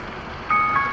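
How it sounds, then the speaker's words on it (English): An electronic alarm goes off partway through, bright beeping tones with a slight warble rising over steady background hiss and rumble. "I apologize for that going off, that's my alarm, I can't turn it off with one hand."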